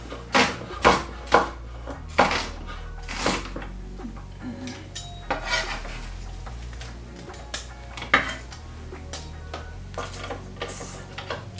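A knife chopping ingredients on a board for Jamaican curry goat, sharp close knocks in irregular bursts, louder at first and then quicker and lighter, with occasional clinks of utensils.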